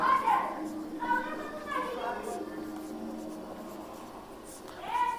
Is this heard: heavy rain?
no